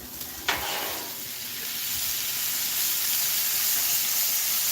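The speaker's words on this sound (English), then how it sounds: "Yeah, listen to that sizzle." Red meat sizzling on a hot grill: a sharp hiss bursts in as it hits the grate, then a steady frying crackle builds and holds.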